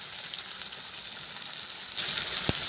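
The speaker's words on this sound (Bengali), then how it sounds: "পেঁয়াজটা বেশি ভাজা হবে না, এই ভেজে নিয়েছি মশলাটা একটু" Onion and spice paste frying with tomato sauce in a pan, a steady soft sizzle that grows louder near the end, with one sharp brief clatter just before it fades.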